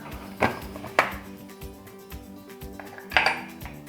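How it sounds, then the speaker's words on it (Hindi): A lid going onto a pot of boiling red kidney beans on a kitchen stove, with a few sharp metallic clinks and clatters standing out from a low continuous bubbling hiss. "फ्लेम को मैं बिल्कुल आहिस्ता कर दूंगी और फिर ढक्कन लगाऊंगी।"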